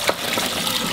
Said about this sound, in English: Now I'm just going to remove the water from the eggplant, the salt water that we just soaked earlier.